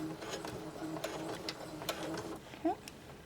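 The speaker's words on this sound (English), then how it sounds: "I'm going to start with a back stitch" A sewing machine back stitching cloth pads hums and ticks with a fast mechanical chatter close by, with faint intermittent clicks and a short squeak toward the end.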